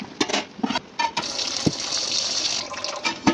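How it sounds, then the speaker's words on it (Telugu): Water gushes steadily as it is drained off partly cooked rice for chicken dum biryani, with occasional clanks of the pot punctuating the continuous close pour. "సో స్టవ్ ఆఫ్ చేసుకొని దీంట్లో వాటర్ తీసేద్దాము."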